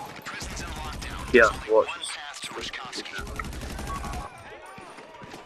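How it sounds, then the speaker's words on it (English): Gunfire in Grand Theft Auto V, with bursts of rapid automatic fire, two louder bangs and further volleys, close and loud, under and between excited talking voices. "Yeah, they're shooting at me"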